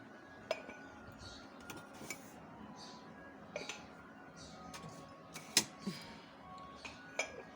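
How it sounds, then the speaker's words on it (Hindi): Showcase dishes and utensils clink and clatter as they are taken out one by one, sharp metallic and glassy taps scattered irregularly over a quiet room, some ringing briefly, with faint background sounds. "यहाँ मैं निकाल रही हूँ शोकेस के बर्तन"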